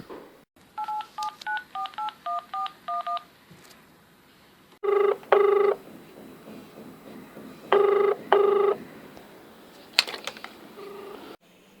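A landline telephone during a call to a radio show: a quick run of touch-tone dialing beeps, then three pairs of ringing bursts with pauses between them, fairly clear and close, with no voices.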